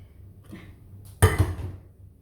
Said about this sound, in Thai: ขอโทษขออภัยเด้อพี่น้องวางเสียงดังดังอีกแล้ว